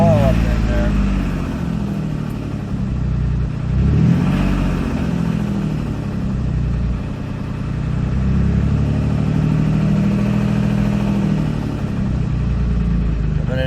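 A 2007 Dodge Nitro running on low oil pressure holds a loud, steady engine drone that rises briefly in a rev and then settles. The engine is heard close up, alongside some rattling and mechanical noise.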